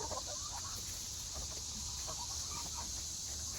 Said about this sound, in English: It turns out that chickens like s'mores too.